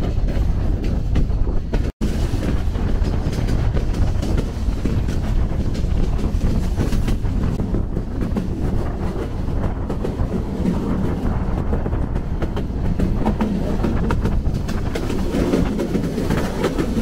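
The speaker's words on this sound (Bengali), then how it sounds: "আমাদের ট্রেন ছেড়ে দিল ভৈরব বাজার জংশন" A passenger train pulls out of Bhairab Bazar junction, its wagons rumbling and rattling loudly and continuously, with a steady clatter of wheels and a brief dropout near the start.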